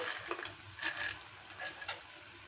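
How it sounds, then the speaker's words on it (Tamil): Carrot halwa with ghee-roasted cashews and raisins is stirred in a pan, giving a few soft, spaced scraping strokes that stay quiet and close, with no voices. "இப்போ இதையும் சேர்த்து நல்லா கிளறி விட்டுக்கோங்க"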